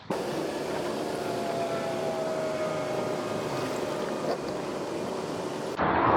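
A constant rushing wash of water and engine drone, loud and close, with a sharp splash near the end.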